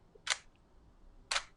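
A DSLR camera shutter at a very slow shutter speed fires as two sharp mechanical clicks about a second apart, close and crisp against a quiet background.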